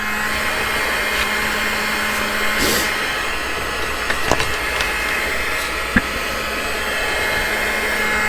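A hair dryer blows steadily on a hand-painted paper envelope, a loud continuous whoosh with faint handling taps and a brief click near the end.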